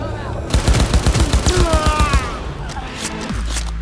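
Rapid automatic gunfire in the video game Cyberpunk 2077, a close, loud burst of about a dozen evenly spaced shots lasting under two seconds, followed by a lower rumble and game voices.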